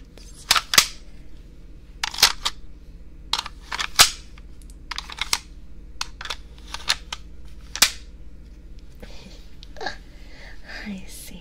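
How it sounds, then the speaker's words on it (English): Airsoft guns handled and fired indoors in a quiet room: a string of sharp, close snapping shots and clicks at irregular intervals, some in quick pairs, over a low steady hum, with no talking. "I'm just playing around with my airsoft guns."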